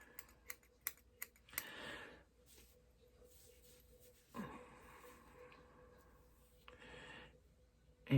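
Scissors point-cut a lock of hair in a quick run of four or five crisp, close snips, followed by softer rustling and handling of the hair.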